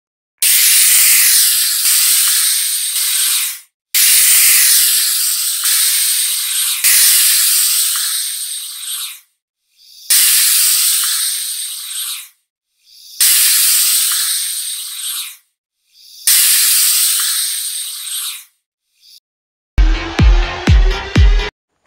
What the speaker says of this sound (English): Python.